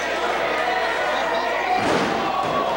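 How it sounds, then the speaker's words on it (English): Wrestler crashes down from a missile drop kick off the top rope in a tag match, a broad heavy slam near the end under steady crowd noise and commentary. "Catches him with a big missile drop kick off the top."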